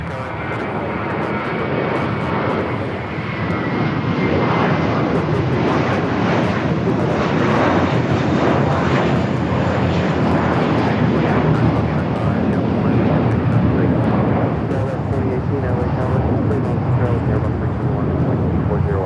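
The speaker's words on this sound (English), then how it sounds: "JetBlue flight heading to Newark, flight 1874. It was an A321." JetBlue Airbus A321 jet at Los Angeles International Airport, a steady, loud broadband engine roar that holds throughout with a slight swell early on, heard alone without talk.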